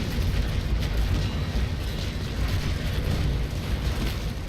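Heavy carronades firing a broadside from a sailing warship in a naval battle game, a dense continuous roar of gunfire and rumbling booms filling the whole stretch without a break.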